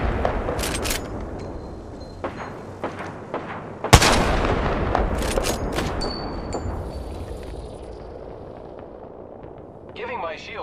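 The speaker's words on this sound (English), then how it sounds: "The enemies are shooting at me." Enemy gunfire sounds in a match of the video game Apex Legends. Loud repeated shots and bursts crack close in front, with one heavy blast midway, then the firing thins out before a short electronic game effect at the end.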